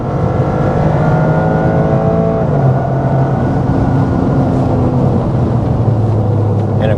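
A 2025 Toyota GR Corolla with the new automatic transmission, a limited-slip differential and traction control off accelerates hard on a race track. Its engine drones loudly and steadily throughout, rising in pitch with a shift partway through, up close.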